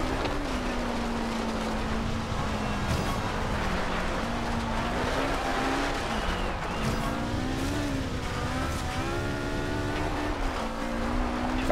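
A car engine in Forza Horizon 2 on Storm Island drones steadily throughout, its pitch rising and falling with gear shifts and throttle changes, loud and continuous with no talk over it.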